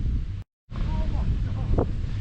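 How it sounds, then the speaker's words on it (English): Strong wind buffets the microphone on an exposed Dartmoor tor, a loud low roar that cuts out briefly before resuming, with faint voices mixed in under the gusts. "it's going to be really crazy walking into the wind"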